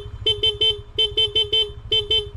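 A car horn honks in three quick bursts of short toots, two, four and three in a row, over a low idling engine rumble on a road during a rainstorm.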